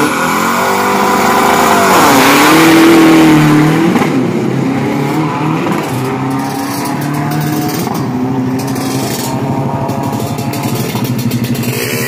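A tuned 2,500-cc race engine, turbocharged, roars and revs hard, climbing in pitch and then holding a loud, steady drone as it runs a 402-metre drag strip at Bira circuit, close and dominant with no talk.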